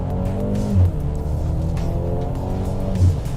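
A Mercedes-AMG GLA 35 compact SUV is driven at full throttle, its engine a steady, close drone with layered harmonics and two brief low thumps.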